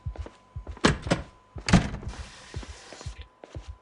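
In the Project Zomboid video game, a series of heavy thumps sounds at a door, several loud irregular knocks spaced through the moment, with a short rushing noise in between.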